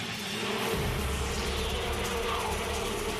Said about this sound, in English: In a horde, the defenders rush the hornet scout, enveloping her in a wave of bee bodies.